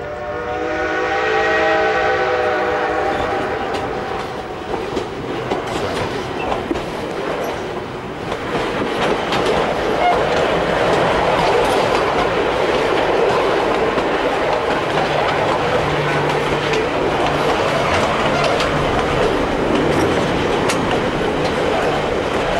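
The White Pass and Yukon Route narrow-gauge train in Alaska and the Yukon: an opening horn blast gives way to a loud, continuous rumble of wheels clattering over rail joints, heard close by for over twenty seconds.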